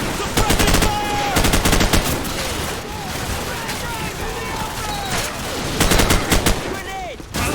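Sustained machine gun suppressing fire in the Call of Duty 4 campaign mission The Bog, dense loud bursts and scattered distant shots mixed with shouting soldiers and radio-style voices.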